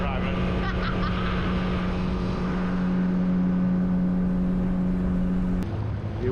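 A motorboat motors out of the Salt Run inlet, its engine a steady loud drone with a sustained tonal hum that drops near the end, while a person talks over it.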